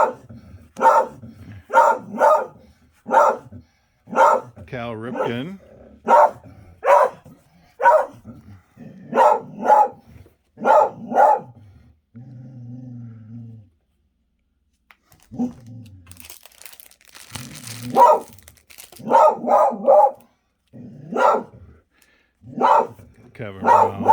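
An indoor dog barks repeatedly in short bursts through much of the scene, under someone talking about baseball cards while opening a 1990 Topps rack pack box.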